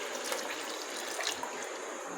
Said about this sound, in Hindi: इसमें हम 3 गिलास डालेंगे पानी के,